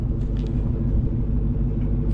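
Dodge Hellcat engine rumbling low and steady at close range while the car turns around, a continuous deep idle-speed growl with no talk.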